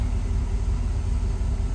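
A 1980 Jeep CJ5 engine idles steadily with a low, constant rumble, close and alone with no talking.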